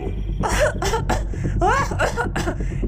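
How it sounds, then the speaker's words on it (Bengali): A run of harsh, throaty coughs in quick succession, fairly close and loud, with a rasping, choking quality between bursts. "ওপর থেকে শাকচুন্নির কাশির আওয়াজ ভেসে এলো"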